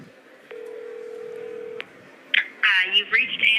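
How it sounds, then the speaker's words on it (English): A telephone call is placed: a steady dial tone plays, then several quick keypad tones sound, followed by brief ringing-like tones, all fairly loud and close. "I thought I would just call the agent on the phone."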